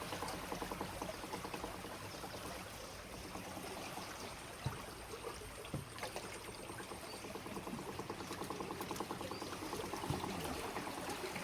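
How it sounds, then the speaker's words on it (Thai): Rain-fed flood water pours and streams across flooded rice paddies in rural Xaignabouli, Laos, as a continuous close rushing, gurgling flow with no talking. "น้ำกำลังนองมา"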